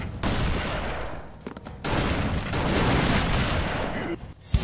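Dense, rapid-fire shooting blares almost nonstop in the Broforce video game, dropping briefly before resuming, with a voice mixed in among the shots.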